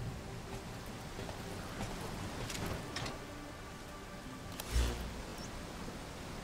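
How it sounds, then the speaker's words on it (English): Steady rain ambience from the video game Metal Gear Solid V: The Phantom Pain, an even wash of downpour with a slightly louder patter or gust near the end, no talking. "I actually see a positive in the rain."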